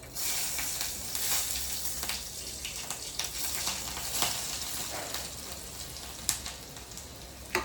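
Garlic dropped into hot oil in a home kitchen, sizzling and frying steadily with a bright hiss and scattered pops and crackles, alone with no talk.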